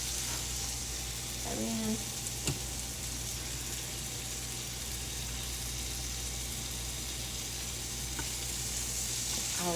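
Peaches sizzle steadily in a hot pan as they are flipped to caramelize, a quiet continuous frying hiss with a few soft clinks of utensils and brief speech over it.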